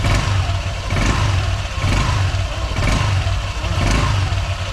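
A motorcycle engine runs loud and close, its rough throbbing pulsing in regular surges as it revs up and down.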